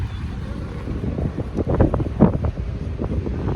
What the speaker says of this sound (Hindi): अटल टनल क्रॉस करने के बाद बहुत ज़बरदस्त हवा चल रही है, बिल्कुल ठंडी।